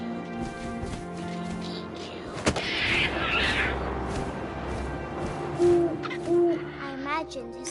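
An owl hoots in the video game What Remains of Edith Finch, a few low, rounded calls rising out of a dark ambient backdrop after a sharp thump, fairly close and clear.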